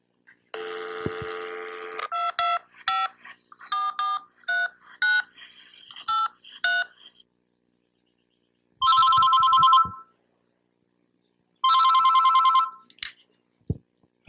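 A phone call being dialed in a lecture hall, with a quick run of loud electronic keypad tones followed by two long, evenly spaced ringback tones, clear and close with no talk over them.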